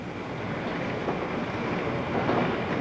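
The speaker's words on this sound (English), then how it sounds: "Here comes the wind." Tornado wind roars in a steady, dense, close rush with no breaks and slight swells in loudness, alone with no voices.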